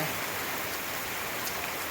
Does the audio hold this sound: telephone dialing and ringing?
no